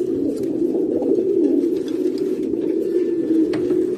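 Cooing of a breeding pigeon, a 1F1 stud-line bird, a steady low warbling coo running continuously and close throughout with no talk.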